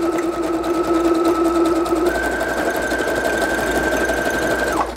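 A sewing machine stitches through a paper belly band, a close, continuous mechanical whir whose pitch rises partway through as it speeds up, then stops at the end.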